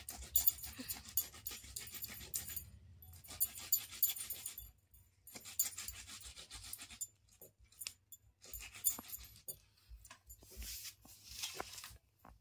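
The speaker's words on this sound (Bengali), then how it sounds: "এইভাবে আমি প্রত্যেকটা টমেটো এভাবে ঘষে নেব" Tomatoes are grated by hand for chutney, rubbed against a grater in bursts of soft rasping strokes separated by short quiet pauses.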